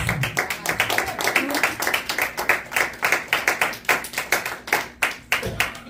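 A church congregation claps in steady rhythm to acclaim the Lord, many hands sharp and close, with a brief voice at the start.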